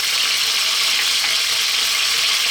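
Chicken breast frying in a pan over lively heat, a constant bright sizzle and crackle holding steady from start to finish with no voices.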